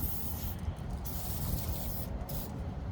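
A continuous aerosol spray of heavy-duty engine degreaser hisses for nearly three seconds onto a 1997 Ford engine, with brief pauses and bursts as the nozzle is pressed, loud and close.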